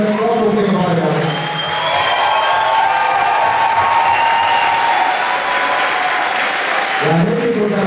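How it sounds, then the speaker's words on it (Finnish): Loud, continuous audience applause for eight finalists at a live show, with voices briefly audible at the start and end. "Ja nyt annetaan aplodit kaikille näille 8 loppukilpailijoille."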